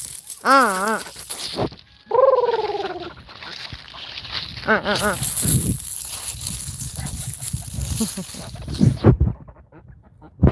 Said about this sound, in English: Gaggle is basically what you call a group of geese.